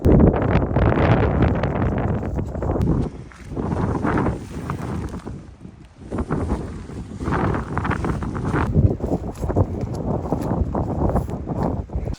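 Strong wet wind roars and buffets the microphone continuously on the Port Davey Track in the Tasmanian wilderness, loud and gusty, with rushing, rumbling surges and no voices.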